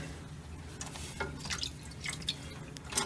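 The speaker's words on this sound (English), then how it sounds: "I'm just going to lift this and try to drain as much of that water out as I can" Water trickles and drips as a lifted toilet tank part lets the remaining water drain away, a close, uneven run of small splashes and drops in a quiet room.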